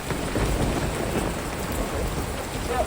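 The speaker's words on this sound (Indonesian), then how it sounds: "Dingin banget nih, hujannya gede banget." Heavy rain pours steadily in a wooded camping spot, a dense, constant hiss and patter close by with a low rumble underneath, no voices.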